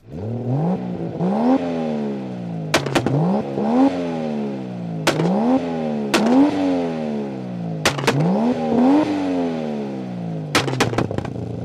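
A Toyota Supra's 2JZ straight-six turbo engine revs hard in repeated rising blips, with sharp pops and cracks between revs, loud and close.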